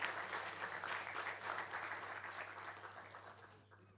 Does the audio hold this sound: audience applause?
yes